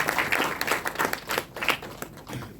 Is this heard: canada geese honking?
no